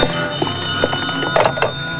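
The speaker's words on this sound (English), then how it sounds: "I better answer that phone" A telephone rings in a classic radio drama, a bright metallic bell trilling steadily and loudly with sharp clattering bursts near the end.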